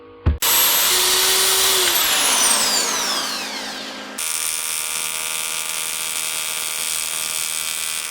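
A power brush spins on an old aluminium motorcycle fork yoke before welding. It gives a loud, high whine that slowly winds down, followed by a steadier, fainter motor hum.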